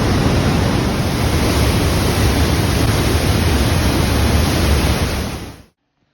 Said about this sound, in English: Tremmelbach Waterfalls